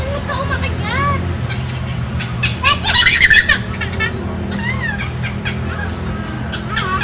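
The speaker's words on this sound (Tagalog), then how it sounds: "Chicken, ibon kaya." A chicken or bird cries outdoors on a wildlife stroll, with repeated high squawking calls over traffic-like background rumble and nearby voices.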